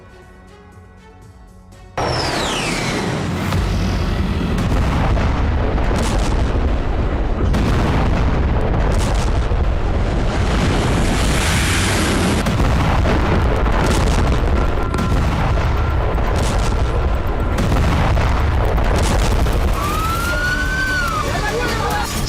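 Explosions from an Israeli airstrike in Syria: a loud, sustained rumbling roar of blasts and crackling begins suddenly after a quiet start and continues with repeated booms, while a rising siren-like whine sounds near the end.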